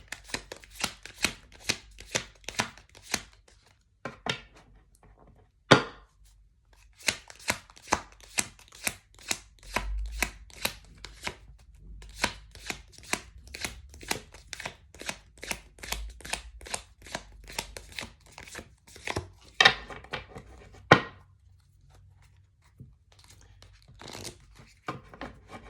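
Tarot cards shuffled by hand, a long run of quick, crisp slaps and riffles close up, uneven in rhythm with brief pauses, over a faint low background hum.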